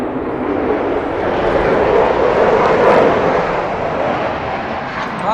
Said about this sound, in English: lots of noise, but you can't see the planes